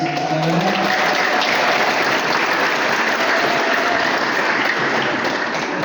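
Loud, sustained clapping from a church congregation, mixed with high trilling ululation, continuous and dense throughout, with no talk.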